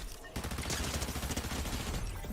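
Rapid SMG gunfire in the Fortnite video game, a dense continuous burst of shots lasting about two seconds at moderate level after a brief quieter lead-in.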